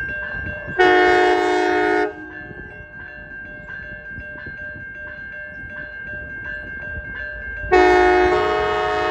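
Amtrak California F59PHI diesel locomotive moving along a house track, its loud horn blasting twice in long sustained blows at start and end over a steady engine rumble and rail noise in between.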